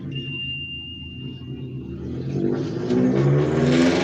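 Motorcycle engines rumble nearby and grow louder as the bikes approach and pass, with a faint steady tone early on.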